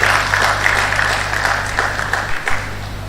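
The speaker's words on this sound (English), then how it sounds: "Please a round of applause for him." A ceremony audience at a university induction breaks into sustained applause, a dense, even wash of clapping that fills the hall for a few seconds.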